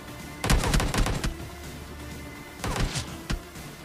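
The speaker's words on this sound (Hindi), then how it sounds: "फिर मारी गोलियाँ।" Gunfire in the mobile battle-royale game PUBG Mobile: two short bursts of rapid shots a couple of seconds apart, loud and sharp over a low background, with no talk.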